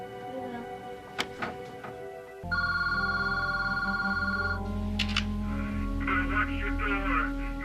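An old-fashioned telephone rings loud and steady in a house at night, its electronic bell tone starting abruptly after a quieter stretch with a few knocks and thuds, then continuing alongside low background sound.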